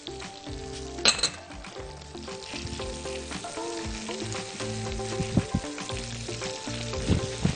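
Minced garlic and crushed black pepper sizzle in a pan for a butter sauce for grilled beef fillet, a steady close frying hiss with scraping stir strokes and a sharp clink of utensil on pan.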